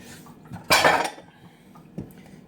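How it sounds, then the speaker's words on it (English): Spoon clattering against a bowl while liquid is mixed into the dry ingredients for oatmeal muffin batter: one loud burst of scraping and clinking, then quieter knocks and a single later tap. "you mix all that liquid into the dry stuff."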